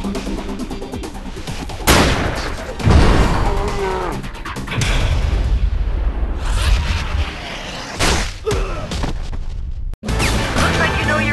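Shotgun blasts in the mobile shooter Kill Shot Bravo during a breach-and-clear mission: a few loud, sharp booms stand out over continuous game music and background effects, spaced irregularly across the stretch.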